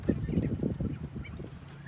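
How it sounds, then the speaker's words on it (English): Fifteen quail kept on a homestead chatter close by, making rapid low clucks and calls in an uneven, busy stream. "Look, that's my quail. I got 15 of them."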